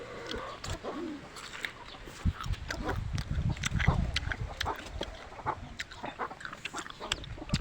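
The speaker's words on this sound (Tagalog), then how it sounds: "Yung mga kalapati niya." Pigeons coo and cluck close by in a loft, with soft, irregular bird calls, wing shuffles and faint human voices in the background.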